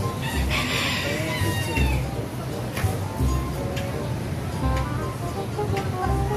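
A rooster crows a few times among other clucking birds, loud and close, over steady background noise and intermittent voices.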